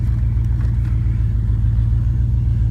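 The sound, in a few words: truck engine starting weakly, possible bad starter or battery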